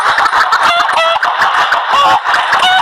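Chickens cluck and squawk loudly and continuously in Minecraft, a busy flock of overlapping bird calls with no talking.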